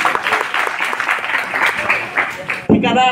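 An audience claps at a Sambalpuri comic poetry recitation, steady close applause for a few seconds that breaks off into a brief burst of voices at the end.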